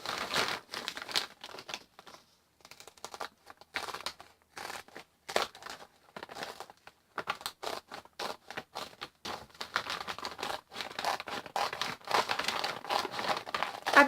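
Scissors cut through a woven chicken feed bag in a series of crisp snips, with crinkling and rustling of the plastic weave between cuts, close and fairly loud, pausing briefly now and then.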